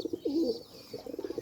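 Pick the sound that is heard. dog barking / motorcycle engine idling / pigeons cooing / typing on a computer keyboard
pigeons cooing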